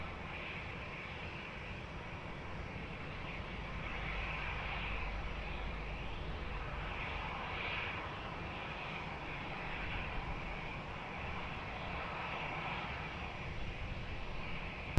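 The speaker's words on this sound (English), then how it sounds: "runway 20, cleared for takeoff" An airliner takes off from runway 20 at Lisbon Airport, its engines a continuous broad roar heard from a distance, steady and sustained throughout with no voices.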